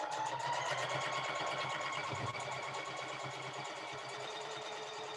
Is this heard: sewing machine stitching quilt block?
yes